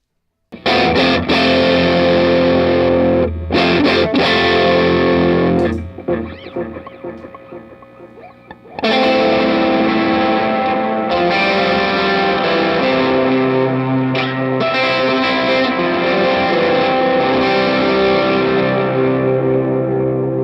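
Heavily overdriven electric guitar through a cranked Bearfoot FX overdrive pedal plays loud sustained chords, with a brief quieter stretch of muted, choppy notes before the saturated chords return.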